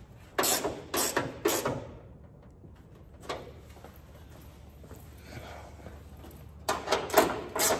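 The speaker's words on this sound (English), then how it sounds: "I love these ratchet wrenches." A hand ratchet wrench, used while fixing the hood of a GMC square body truck, gives short bursts of sharp, close clicking in quick runs, with quiet gaps and faint shuffling between them.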